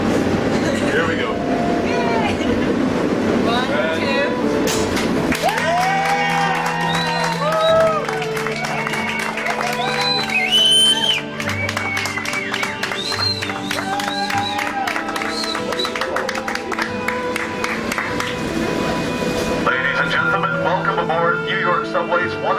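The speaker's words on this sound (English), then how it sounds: "That round of applause was for all of you together to thank you for being individual and beautiful human beings" Passengers in a moving New York subway car clap and cheer together over the loud rumble and rattle of the train. The applause runs for most of the stretch amid busy voices.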